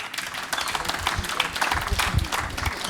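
A panel discussion audience at a literary festival breaks into scattered, uneven clapping, moderately loud and somewhat sparse, with individual claps standing out in the hall.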